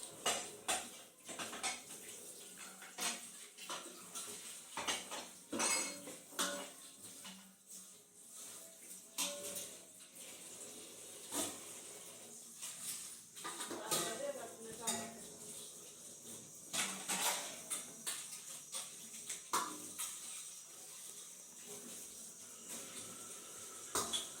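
Steel dishes, pots and cutlery clatter and clink steadily while being washed in a home kitchen, with frequent sharp knocks and scrapes throughout and some faint background voices.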